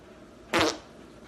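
A single short, loud fart bursts out during a played clip, rising abruptly and trailing off within a fraction of a second against a quiet background.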